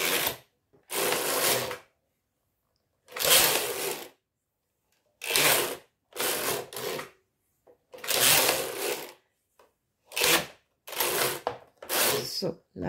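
A Knittax Automatik 2 knitting machine carriage runs back and forth in repeated loud rasping sweeps, each a second or two long, separated by silent pauses.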